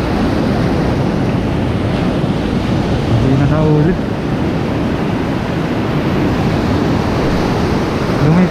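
Waves and surf wash continuously with rushing noise and wind buffeting off a boat fishing in rough sea, while a voice speaks briefly in Tagalog over the sea.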